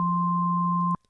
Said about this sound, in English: So now you have the high-pitched sine wave in the left ear, and now you have the low-pitched in the right ear